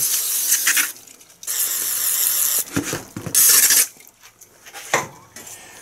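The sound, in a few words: aerosol brake cleaner spraying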